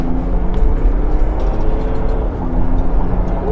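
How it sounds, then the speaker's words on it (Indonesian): A Mercedes G-Class 350d diesel SUV accelerates hard in sport mode with a loud, steady engine roar and road rumble that runs without a break, and no voices. "kita coba dari mode sport, ada di D sekarang, kita coba tancap gas langsung."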